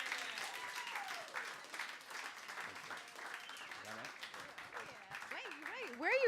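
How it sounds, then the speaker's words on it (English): Comedy show audience applauding, a steady wash of clapping lasting several seconds with voices and whoops rising over it, growing louder near the end. "Give it up for Samia, everybody."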